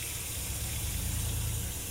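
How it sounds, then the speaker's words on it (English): A steady column of cold water runs from a kitchen tap into a sink, a constant close splashing gush with no talk. "Get that column of cold water going so you don't scorch your hand."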